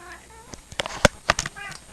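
A cat meows a few times indoors, short close calls in a quiet room.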